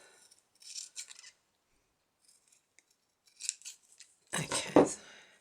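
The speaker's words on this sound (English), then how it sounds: "So let's cut those bits off." Scissors snip through junk journal embellishment paper in two short bursts of crisp cuts, followed by a faint pause and then louder, close snipping near the end.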